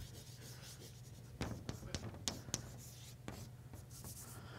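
Chalk writing on a board during a mathematics lecture, a quiet run of short taps and scratchy strokes over a steady low room hum, faint and close, with no talk.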